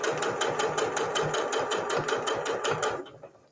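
A sewing machine stitches a quarter-inch seam on a microwavable fabric mug cozy, running in a fast rapid rhythmic chatter up close, then stopping and fading out at the end.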